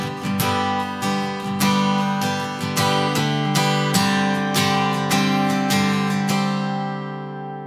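Acoustic guitar plays a song's melody up on the higher strings, a steady run of plucked notes ringing over a sustained G, clear and close with no talking.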